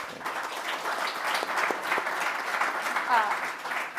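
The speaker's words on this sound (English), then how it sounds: "Let's give them a huge round of applause." Audience applause at a startup ecosystem conference in London, a steady wash of clapping from a crowd lasting several seconds, moderately distant and even, with faint voices mixed underneath.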